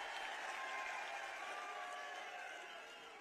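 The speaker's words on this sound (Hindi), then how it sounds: "एक बार तालियों के साथ स्वागत कर दें।" Audience applause fills a state-level Maharishi Valmiki Jayanti ceremony as the chief minister is welcomed: steady, dense clapping from a large crowd, sustained throughout and easing slightly toward the end.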